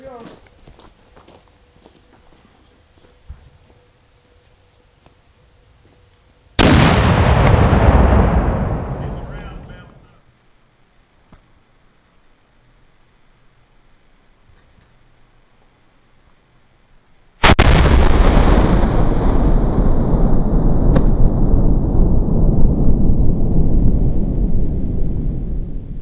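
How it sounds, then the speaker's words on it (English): A black powder cannon fires a sand-filled 12-inch PVC pipe round: one sudden, very loud blast that rolls off over a few seconds, quiet outdoors, then a second sustained roaring burst that lasts to the end. "Ed is going to light the fuse for round number six, sand-filled 12-inch PVC pipe. Fire in the hole"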